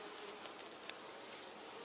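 Bees buzzing at an open hive during an inspection, a faint, steady insect hum throughout with one brief soft click near the middle.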